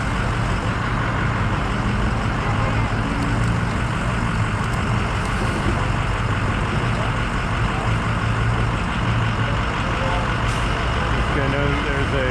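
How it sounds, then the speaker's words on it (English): An electric bus passes on a busy New York City street, with a loud, steady wash of engine and road noise that stays dense and constant throughout. "Clean energy bus, electric bus."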